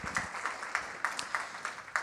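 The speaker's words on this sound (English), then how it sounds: "can we give them a round of applause for doing that?" Scattered clapping from a small group at a school district meeting, a thin patter with a few distinct claps, faint and brief.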